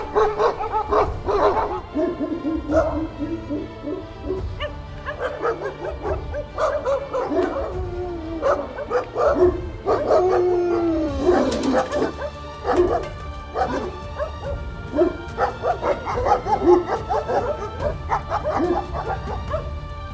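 German Shepherd dogs bark, howl and yip continuously and loudly, with overlapping whines and yelps layered together through the whole stretch.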